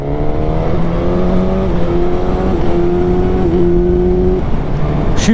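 A 2021 Suzuki GSX-S1000 motorcycle in sport mode pulls hard, its steady engine drone rising in pitch through the gears, loud and close with no talking.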